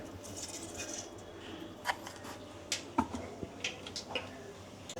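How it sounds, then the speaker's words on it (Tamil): Mustard seeds splutter in hot oil in a kadai, giving faint, scattered sharp pops and crackles over a soft sizzling hiss. "கடுகு பொரிஞ்சிச்சு."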